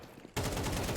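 Rifle fire from a FAMAS in the Counter-Strike 2 video game: after a brief quiet moment, a loud, dense burst of rapid automatic shots.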